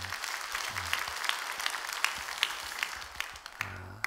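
A church congregation at a Korean early-morning prayer service applauds together, a steady dense round of clapping lasting about four seconds, moderately close and continuous.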